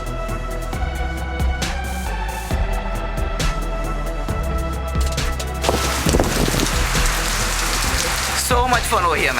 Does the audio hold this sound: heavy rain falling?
yes